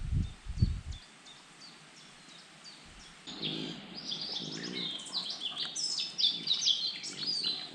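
A short low thump, then a lull, then birds chirping and trilling in overlapping bursts nearby in a spring forest by a small overgrown lake, growing busier toward the end.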